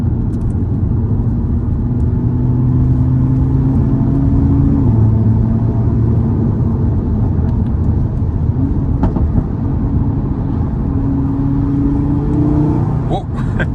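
An Audi RS3 8V engine pulling at light throttle, around 20%, a steady loud low drone with rising pitch sweeps as it accelerates through gears, heard from inside the car with constant road rumble.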